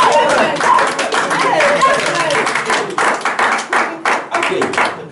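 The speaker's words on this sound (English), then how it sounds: "Let's clap for him." Sparse audience at a church teaching clapping for a volunteer preacher, loud close individual claps in an uneven rhythm, mixed with chuckles and scattered voices.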